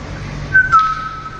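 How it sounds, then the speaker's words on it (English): A person whistles a short, thin tone that slides slightly, heard over a steady low background hum. "Oh, that was just him whistling."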